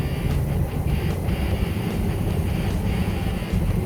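A truck with 488 gears and 35-inch tires cruises in sixth gear, giving a steady low engine and drivetrain rumble with road noise, continuous and close from inside the cab.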